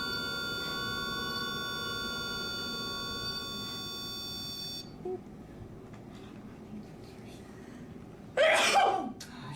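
A single sharp sneeze bursts out near the end, loud and close, following a stretch of steady electronic tones and background talk-like murmur.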